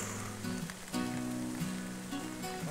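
Rain falls during a trek from Sigles to Hugu, a steady close hiss of drops on surfaces with a faint tonal hum running underneath.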